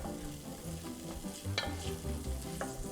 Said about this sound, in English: some onions here that I'm sauteing just a little bit, not a whole bunch, maybe about 1/4 cup